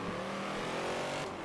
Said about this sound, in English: Yo, Raymond, look when my car revs.